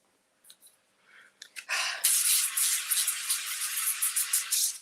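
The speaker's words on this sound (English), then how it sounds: "All right, so we're spraying" A few soft clicks, then a continuous hissing spray from a can runs close by for several seconds with brief pulses.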